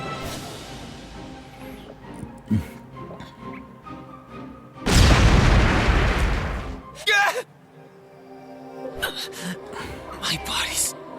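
Fire magic crystals explode in the Re:Zero game, a sudden roaring burst of noise lasting about two seconds amid quieter game sounds and someone talking.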